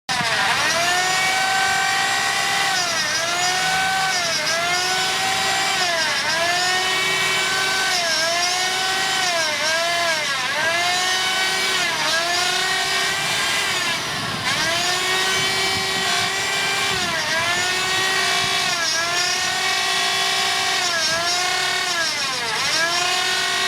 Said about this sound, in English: Found that a wire brush with the drill is pretty handy